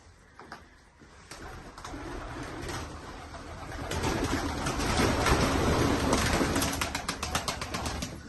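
Several Spanish pigeons coo softly and repeatedly amid rustling and fluttering wings in a coop, with a continuous noisy background that builds and stays busy.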